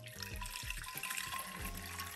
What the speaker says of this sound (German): Hier haben wir Wasser gefiltert und füllen das jetzt mal ein bisschen auf.